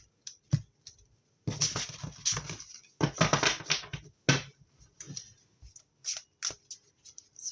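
Close, crisp shuffling of a tarot card deck in a few riffled bursts, followed by scattered snaps and taps of cards being squared up.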